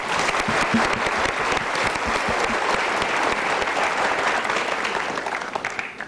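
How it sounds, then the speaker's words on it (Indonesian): A studio audience claps in a thick, even burst that carries on steadily before tapering slightly near the end, with no speech over it. "Kita berikan tepuk tangan untuk mereka."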